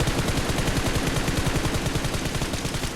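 Rapid automatic gunfire in the mobile battle-royale game PUBG Mobile, a dense, loud stream of shots rattling continuously and evenly for the whole stretch with no voices.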